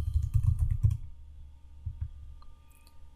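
Computer keyboard keys tapped in a quick run of clicks, then a pause and a few scattered presses, close and fairly quiet.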